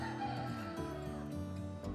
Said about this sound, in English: So how many birds have you got in here, James?